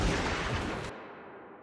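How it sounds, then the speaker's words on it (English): A loud, sharp gunshot blast in a horror movie scene, a roaring burst that cuts off abruptly, leaving a fading low rumble. "she takes a fatal gunshot"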